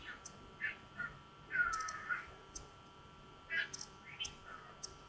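A pet bird gives a series of short, raspy calls and squawks, spaced irregularly and fairly close, over a quiet room.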